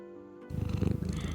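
Cat purring while eating meat, quiet at first and then a close rumbling purr with a rapid pulsing rhythm that carries on to the end.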